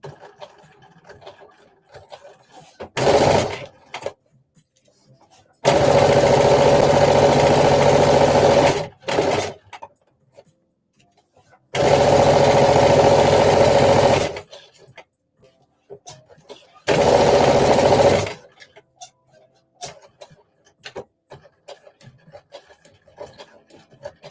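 A sewing machine stitches a half-inch seam allowance on a flared dress with side panels, running in several loud sustained bursts of a few seconds each with short quiet gaps, and faint handling noises in between.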